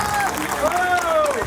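Audience applause at a Kannada Rajyotsava cultural festival, a steady wash of clapping through the whole moment with a voice rising and falling over it.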